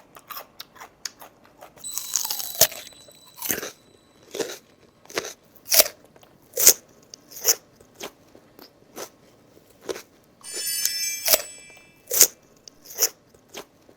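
Crisp, repeated crunches of someone biting and chewing raw sweet radish, close and distinct, in quick bursts with brief pauses between bites.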